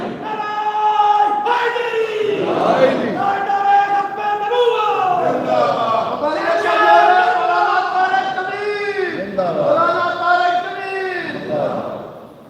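A large crowd at a religious gathering in Lahore chanting Islamic slogans in unison, loud rhythmic call-and-response shouts repeating several times, with a leading voice between the crowd's answers.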